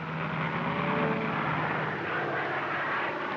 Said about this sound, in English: That airplane noise might stampede them.